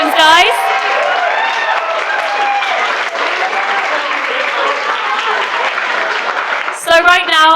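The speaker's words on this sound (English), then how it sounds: "Can we give them a big round of applause?" Wedding guests at a reception give the newlyweds loud, sustained applause filling the room, with cheering, then an announcer speaks as the clapping ends.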